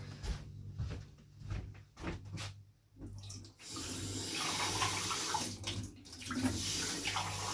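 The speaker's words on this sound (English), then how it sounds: "grab some glass of water in a second" Tap water runs into a drinking glass, starting after a few knocks and handling sounds and then settling into a steady, fairly quiet splashing flow.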